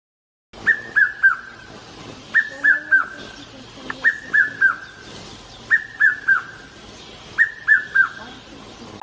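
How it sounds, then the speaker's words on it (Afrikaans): Red-chested cuckoo (Piet-my-vrou) of South Africa repeating its clear three-note whistled call about every two seconds, several phrases in a row, loud and close with no talking. "Piet my vrou is die naam van hierdie voël."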